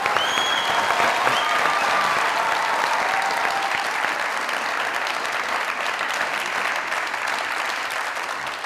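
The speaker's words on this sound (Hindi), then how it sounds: "मैं पूरे हॉल से कहूंगा कि एक दफा जोरदार ताली।" A hall audience applauds loudly, with steady, dense clapping that holds at full strength throughout without a break.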